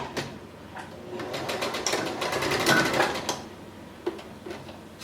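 A sewing machine stitches in a steady rapid run for a couple of seconds, close by, then slows and stops with a few scattered clicks.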